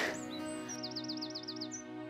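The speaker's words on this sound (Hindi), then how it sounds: "इतने सारे तोते।" Parrots chirp in a run of quick, bright, repeated calls, a cluster of rapid tweets followed by a single longer whistle, fairly close above a low steady hum.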